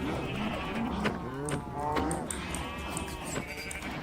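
Minecraft cows and sheep crowd together, overlapping low moos and higher bleats repeating close by over a couple of seconds of busy in-game farm noise.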